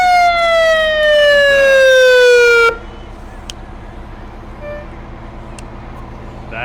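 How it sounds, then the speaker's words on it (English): A fire department ladder truck's siren wails loud and close during a festival grand finale parade, its descending tone cutting off abruptly partway through, leaving crowd and street noise. "bringing up the rear, is the City of Wellston, the Fire Department's ladder truck"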